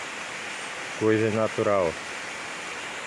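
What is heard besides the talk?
waterfall at Serra da Prata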